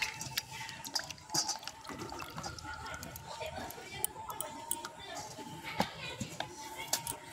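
Peeled potatoes are washed by hand in water, giving close splashing, dripping and sloshing that comes and goes irregularly, partly under a voice speaking.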